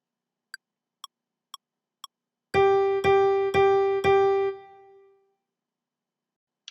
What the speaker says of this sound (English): In a 4/4 measure, playing only quarter notes would sound like this.